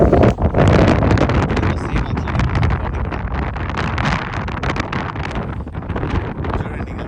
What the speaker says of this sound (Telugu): చూడండి, గాలి ఎట్లా వస్తున్నది.